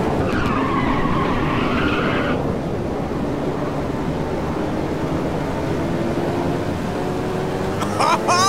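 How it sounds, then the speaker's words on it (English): Race cars in Ridge Racer 6 skid through a nitrous boost, a long tire squeal and engine whine sweeping across the clip, with a brief burst of rising engine tones at the end. "here comes some crazy nitrous"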